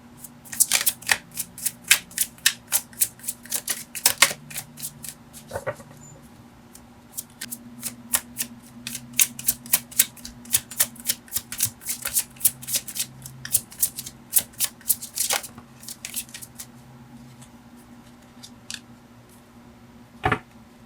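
A tarot deck is shuffled by hand close up, with rapid crisp card riffles and flicks in bursts over a faint low hum.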